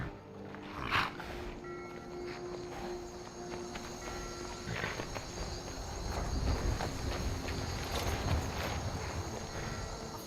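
Horse hooves clop faintly in the Skyrim video game at a stable outside a town, soft irregular steps under a steady outdoor ambience with insect chirps, distant and low in level.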